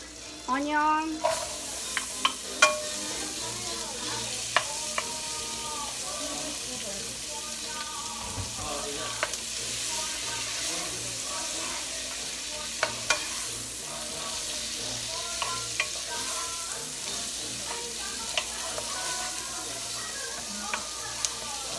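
Chopped onion frying in butter in a pan, a continuous close sizzle with clinks and scrapes of stirring throughout, a few sharp spattering pops near the start.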